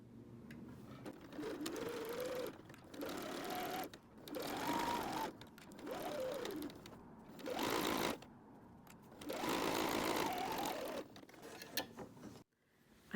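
A sewing machine runs in repeated bursts while stitching a 3/8-inch seam along fabric for a water bottle sling, each run lasting one to two seconds with brief pauses, close and fairly quiet with no talking.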